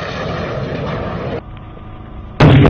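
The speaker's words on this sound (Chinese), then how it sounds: "命中！ 十字靶标被彻底摧毁。" A rocket artillery round from a Chinese wheeled self-propelled rocket launcher strikes and destroys a cross-shaped target at a live-fire range, heard as a loud sustained roar that drops off, then a sudden close blast.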